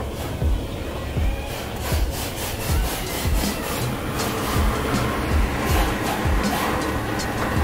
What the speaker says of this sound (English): I did some sanding on the car.